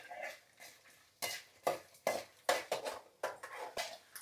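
Peanuts stir-fried in a pan for a Karnataka raw-mango chitranna, a spatula scraping and clinking against the metal in repeated bursts over a faint frying hiss, close and fairly loud.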